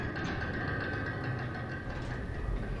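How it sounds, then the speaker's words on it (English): A heavy gate grinds upward in Dark Souls 2, a continuous low mechanical rumble with rattling texture, steady and moderately loud with no talk. "It was the gate coming up."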